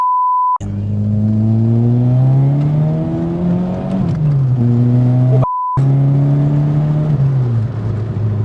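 A Volkswagen Golf G60 accelerates hard in second gear. Its engine note climbs steadily to a loud, close whining roar, drops briefly, then rises again through a second sustained pull with a rumbling drone underneath and no talking.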